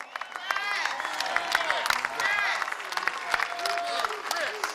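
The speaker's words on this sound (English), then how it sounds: "Give him a round of applause" Rally crowd at a Washington, DC labor march applauding a Teamsters union leader, loud sustained clapping mixed with shouts and cheering voices throughout.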